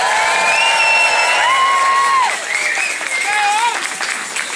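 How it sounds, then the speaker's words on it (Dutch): Applause and cheering from a crowd at the closing of the 2023-2024 carnival season, dense and loud throughout, with whistling, shouts and a voice over the noise. "Ook een applaus voor Mees natuurlijk."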